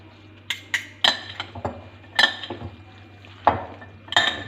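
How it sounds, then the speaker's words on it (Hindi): Macaroni chicken salad is stirred in a bowl, with a spoon clinking and scraping against the dish in irregular knocks and rattles, close up with no talk. "अच्छी तरह मिक्स कर लेंगे।"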